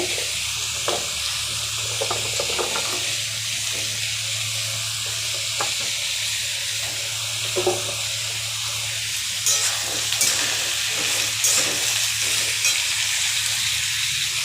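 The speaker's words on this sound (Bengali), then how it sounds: "মিষ্টি আলুগুলো অনেকটা ভাজা ভাজা হয়ে গেছে এরপর দিয়ে দেবো পেঁপে" Sweet potato and papaya frying in a pan for shukto, a steady close sizzle with occasional crackles and spatula scrapes running throughout, no voices.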